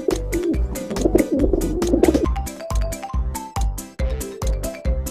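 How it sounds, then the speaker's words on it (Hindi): A pigeon or dove coos in a soft repeated rhythm, fairly close, with music playing underneath. "पक्षी।"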